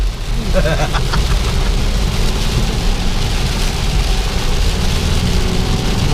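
Heavy rain pours steadily during a road trip from Cagayan de Oro to Davao, a dense constant hiss filling the scene from start to finish, with a low rumble beneath and no pauses.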